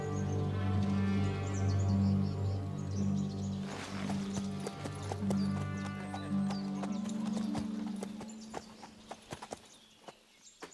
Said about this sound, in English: The horses do not want to stand